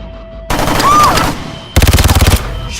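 Gunfire from the action film The Purge: Anarchy: a loud, rapid burst of automatic shots in close, even succession, preceded by a tense stretch with a shouted voice.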